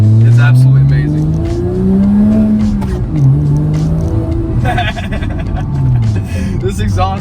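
A loud Porsche GT3 with a Fabspeed Supercup exhaust roars and burbles as the engine revs up and down, with tire noise and a voice talking over it.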